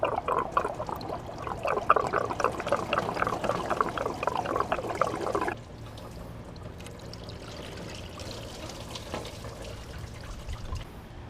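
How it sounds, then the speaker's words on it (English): Coolant water dripping and trickling from the engine water pump of a Chevy Equinox, a steady close pour that grows quieter and thinner partway through, with no talking. "I'm going to tip it right here so I can get water drip a little bit."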